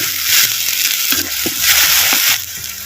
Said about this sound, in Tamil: சேர்த்த வெங்காய விழுதுகளை நல்லா பச்சை வாடை போகிற அளவுக்கு எண்ணெயில் வதக்குறோம்